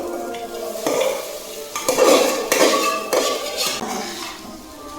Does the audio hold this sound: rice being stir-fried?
yes